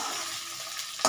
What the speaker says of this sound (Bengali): আমার এখানে সয়াবিনটা আর আলুটা ভাজা হয়ে যাচ্ছে